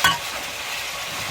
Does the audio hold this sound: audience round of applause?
no